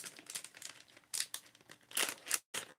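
A resealable plastic bag of Carolina Reaper beef jerky is pulled open up close, giving sharp crinkling and crackling bursts with short gaps.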